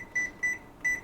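Three short electronic beeps from a kitchen oven timer being set, evenly spaced and clear in a quiet room.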